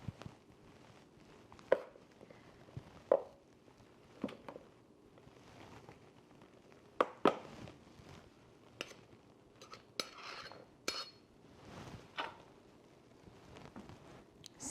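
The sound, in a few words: scooping and leveling flour for baking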